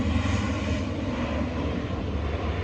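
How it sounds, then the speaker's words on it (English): Military planes flying touch and goes, a loud continuous engine roar from close by that fills the scene without any voices. "the military planes are doing touch and goes"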